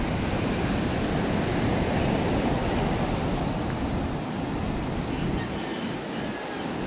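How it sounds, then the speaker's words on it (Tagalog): Big sea waves break along a beach in the Philippines as a steady, loud surf roar with constant wash and wind, and no speech. "Biglang laki ang alon, kaya walang nakalaot."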